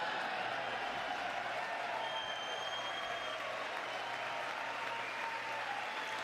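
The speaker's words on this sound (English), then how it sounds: "The fact that they're cheering this on" Sustained applause with cheering fills a legislative chamber during an address to Congress, a steady dense wash of clapping from a large audience throughout.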